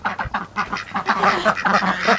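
Several ducks quack excitedly in a rapid, overlapping chorus after finding food, close and loud, with no talking.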